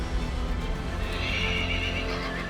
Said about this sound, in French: les 2000 chevaux des écuries